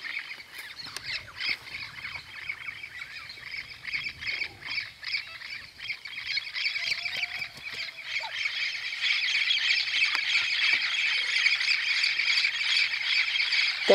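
A large flock of parrots squawks continuously beside the São Lourenço river in Brazil. The dense, overlapping shrill calls carry on for the whole stretch and grow fuller and louder toward the end, with no one talking.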